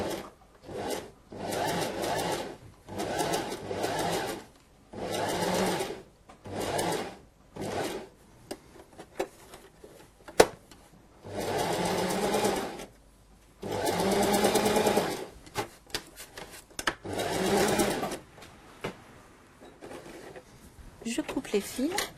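A domestic sewing machine stitches the seam of a hand-painted fabric rag doll, running in repeated short whirring bursts separated by pauses, with a few brief stretches of speech between runs.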